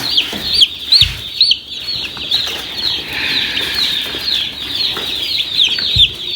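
Meat chickens clucking and cackling steadily on a farm before butchering, with a rooster-like call, several birds close by and a few sharp wing flaps or bumps, with no talking.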